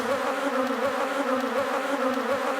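Bees buzz in a steady, close drone with a slightly wavering pitch, with no pauses or other sounds.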